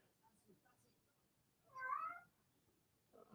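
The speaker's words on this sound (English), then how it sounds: "I've got a cat meowing at my door." A house cat meows at a door, one clear drawn-out cry near the middle, fairly close but modest in level, set against quiet room noise with faint background sounds around it.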